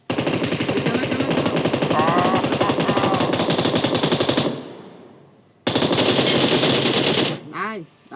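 Rapid automatic gunfire from a PUBG Mobile match, loud and sustained bursts that break off into a short gap, resume, then stop as a voice briefly speaks near the end.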